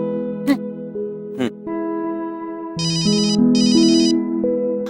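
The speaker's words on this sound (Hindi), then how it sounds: "फोन लगाया जाए शिखा जी को तुरंत प्रभाव से।" A telephone rings after a call is placed: steady electronic ringback tones with two brighter warbling bursts partway through, loud and clear with no talk.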